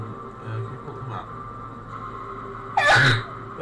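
A single loud sneeze bursts out near the end of a game-playing session, sharp and close after a stretch of low background hum.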